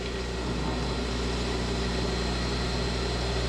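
An electric motor in a garage workshop spins at full speed, a constant, smooth hum with a faint vibrating buzz from the table and tools, unbroken and fairly quiet.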